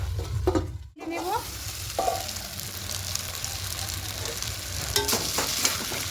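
Dalia pulao cooking in an uncovered pan, stirred with a spatula, giving a steady close sizzle and frying hiss with intermittent scraping strokes and a brief dropout near the start.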